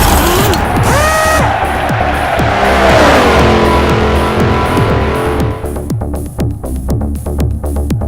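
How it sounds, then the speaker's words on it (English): A V8 Supercar in the racing game Forza Motorsport 4 screams out of control with squealing, skidding tyres, then slams into the wall, followed by a run of scraping, clattering impacts as the engine roar keeps going underneath. "He's out of control and into the wall."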